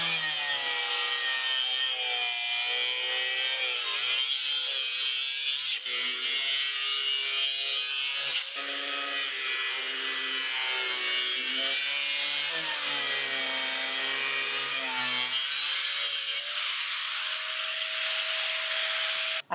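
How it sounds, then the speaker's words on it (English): An angle grinder cuts through Hardie board fiber cement siding in a continuous loud, harsh, gritty whine that holds steady for the whole stretch, with slight shifts in pitch as the blade works through the board. "I will be using the angle grinder with glasses, ear protection, and a mask to get this piece cut out here."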